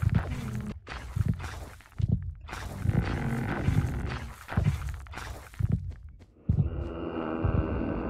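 Heartbeat sound in Minecraft Bedrock: deep, loud thumps repeating in a steady slow rhythm under a dark droning ambience, with no talking.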